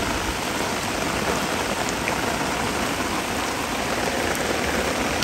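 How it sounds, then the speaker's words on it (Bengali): Steady rain falling outdoors during fishing, an even, continuous wash of drops with no talk, moderately loud throughout. "বৃষ্টি চলছে।"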